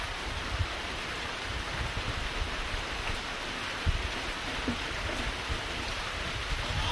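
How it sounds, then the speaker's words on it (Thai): Light rain falls steadily outdoors at a fishing spot, a continuous even hiss of fine drops with a few soft low thumps, no voices. "ฝนก็ตกไปแล้วนะตกเม็ดเล็กๆตกเม็ดนิดเดียว"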